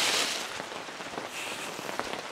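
Steady rain pours down during house repairs for an elderly man in rural Vietnam, a continuous close hiss of drops striking surfaces with scattered louder splatters, and no voices.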